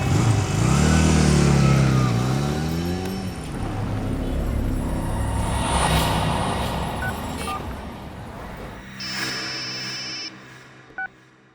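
A motorcycle engine revs loudly and close at first, its pitch climbing, then the rumble drops and fades as the bike pulls away, followed by faint beeping tones near the end.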